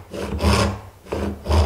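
A Japanese handsaw cuts the shoulder of a wooden tenon for a stool joint, giving three close, rasping push-and-pull strokes in a steady rhythm with no talk.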